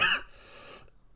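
A single short, harsh cough bursts out at close range after eating a very spicy curry, followed by a fading breathy tail and then near silence.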